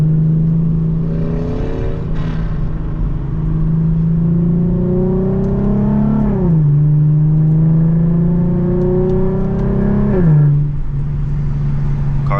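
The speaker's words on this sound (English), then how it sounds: "Car sounds pretty good though." A loud Infiniti G37 engine while driving, rising in pitch through repeated revving pulls with clear drops between gear changes, steady and close with no talking.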